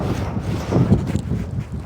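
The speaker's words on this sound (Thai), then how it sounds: "ลมมันสูง" Strong wind buffeting a microphone on a house rooftop, loud irregular low rumbling gusts that swell and fade over about two seconds with no other clear sounds.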